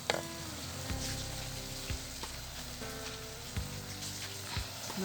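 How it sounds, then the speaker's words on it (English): Sugar is stirred into a pot on the fire while cooking festive Sinhala and Tamil New Year food, with quiet, steady sizzling and a few soft scraping knocks of the spoon against the pot. "she added 4 teaspoonfuls of sugar and stirs well"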